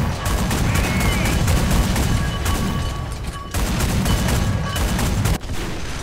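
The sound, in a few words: artillery strike gunfire in video game War Thunder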